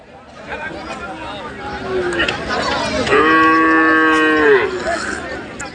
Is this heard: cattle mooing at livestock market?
yes